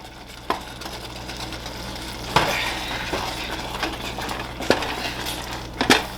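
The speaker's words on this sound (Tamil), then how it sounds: "நல்லா இதை மிக்ஸ் பண்ணுங்க." Scraping and clinking of a utensil stirring bread pasta in a pan, with soft sizzling underneath and a few sharper knocks against the metal.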